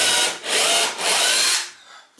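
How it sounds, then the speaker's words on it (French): Power drill boring a pilot hole into wood with a slightly smaller bit while fixing a climbing beam, a loud steady whine in three bursts with brief dips, then spinning down. "n'hésitez pas à faire un avant-trou. Vous prenez une mèche un petit peu plus petite."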